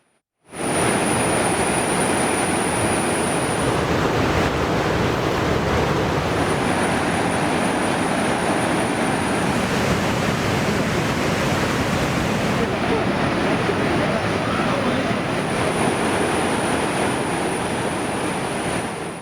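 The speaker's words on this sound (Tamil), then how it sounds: "அதிரப்பள்ளி நீர்வீழ்ச்சியில் கடும் வெள்ளப்பெருக்கு ஏற்பட்டு சுற்றுலா பயணிகள் செல்ல தடை விதிக்கப்பட்டுள்ளது" Athirappilly waterfall in Kerala in heavy monsoon flood, a steady, dense roar of rushing water that runs unbroken and loud from start to finish, with a faint high whine above it.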